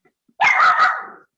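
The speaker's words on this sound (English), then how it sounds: "Could somebody please control their dog? Put the dog on mute." A dog barks into a virtual meeting: a single burst of two or three quick, loud, close barks that run together and then fade, with silence before and after.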